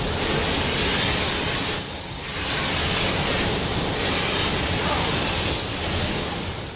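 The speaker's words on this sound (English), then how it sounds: "The body in white enters the paint booths for the final painting process, where the robots do the job" Robots spray-paint a body-in-white car body in a factory paint booth, a loud, continuous close hiss that dips briefly a few times.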